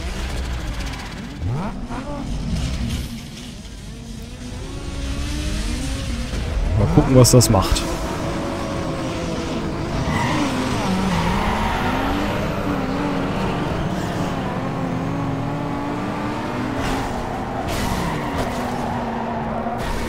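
A stock Toyota Supra races in the Need for Speed Underground 2 video game, its engine droning and revving steadily throughout, with a loud burst of impacts or skidding around the middle, while someone talks over the game sound.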